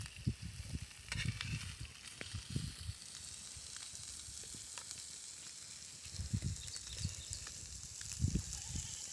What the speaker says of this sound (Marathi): आणि आता हे एका बाजूने तळल्यानंतर आपल्याला दुसऱ्या बाजूने पण चांगले तळून घ्यायचे आहेत